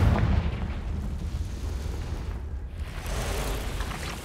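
A Confringo spell explosion in Hogwarts Legacy, heard as a dense, sustained rumbling blast with a heavy low-end roar. It stays loud throughout, with only a slight dip in the middle, and no voices come through.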